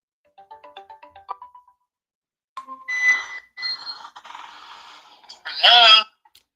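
Outgoing phone call, a series of short evenly spaced ringback tones followed by a clear pause, then louder electronic ringtone-like chirps and a burst at the end.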